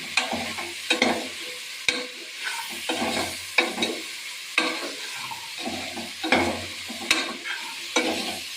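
Mutton seasoned with turmeric and salt fries in a pan, with a loud, rhythmic series of spatula scrapes and clacks roughly once a second over a continuous close sizzle.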